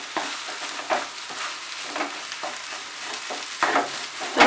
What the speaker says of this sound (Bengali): তবে সমানে কিন্তু নাড়তে হবে